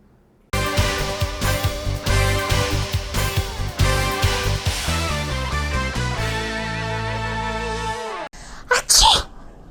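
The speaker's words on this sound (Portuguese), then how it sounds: "Este espirro é o transporte de vários vírus do meu organismo para outras pessoas." After several seconds of music, a single loud, sharp sneeze bursts out near the end.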